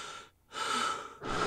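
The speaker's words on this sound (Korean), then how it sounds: "숨을 헉헉대고 정신을 차리는데 믿기지 않았습니다" Heavy panting and gasping breaths of someone jolted awake from a vivid nightmare, two loud ragged bursts of breathing split by a short pause, close and alone with no talk.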